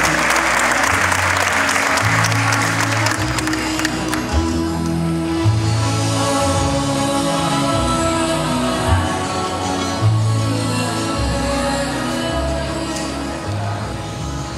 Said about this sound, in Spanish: Le brindamos nuevamente un fuerte aplauso a nuestros estudiantes y los invitamos a tomar asiento.